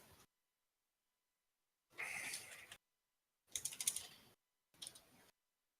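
Bursts of typing on a computer keyboard, with three separate clusters of rapid clicking broken by silent pauses, close and fairly quiet.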